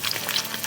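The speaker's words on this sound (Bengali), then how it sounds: "ডিমটাও এখানে কুক করে নিচ্ছি।" An egg fries in a pan beside ramen noodles, giving a steady, close hiss and crackle of sizzling oil with small pops throughout.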